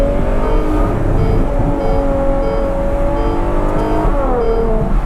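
A Ferrari 765 with its exhaust valves open holds a loud, close, sustained engine howl, the pitch gradually rising then dipping near the end with a rough, throaty exhaust edge throughout.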